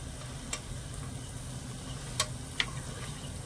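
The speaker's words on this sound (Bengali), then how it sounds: "এবার উল্টে পাল্টে একটু ভালো করে ভেজে নেবো" Gram flour boondi frying in oil. A soft, continuous fizz of bubbling oil, with a few sharp ticks and clinks from a utensil being turned through the pan.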